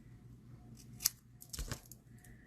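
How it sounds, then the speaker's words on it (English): Scissors snip through paper pieces for a handmade card: two quiet, close cuts, one short crisp snip followed by a slightly longer one, in a hushed room with no talking. "we're just going to snip off 2 pieces"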